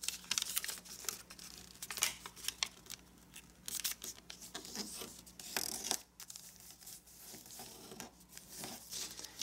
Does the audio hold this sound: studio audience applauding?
no